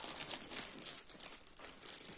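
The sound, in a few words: crinkling plastic packet from Farmasi order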